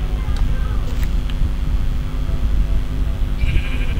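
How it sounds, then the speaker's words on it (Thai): Sheep bleating in Minecraft, nasal repeated baas close and loud over a steady low background. "ผมได้ยินเสียงแกะ"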